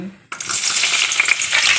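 Garlic hitting a hot pan for chop suey, a sudden hiss that bursts in after a brief silence and keeps sizzling brightly and evenly.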